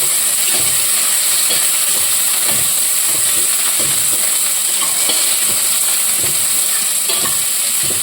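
Ginger, onion and curry leaves sauté in a hot pan with dried red chillies, giving a loud, steady sizzle and hiss broken by soft stirring scrapes.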